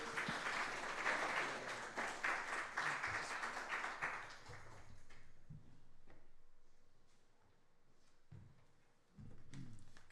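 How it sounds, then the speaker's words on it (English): Congregation at a Sunday church service applauds to welcome a speaker, a dense round of clapping for about five seconds that then fades out into quiet room tone with a few stray claps. "So please let us welcome him up with a big round of applause"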